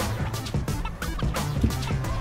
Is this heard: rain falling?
no